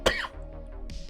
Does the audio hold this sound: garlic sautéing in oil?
no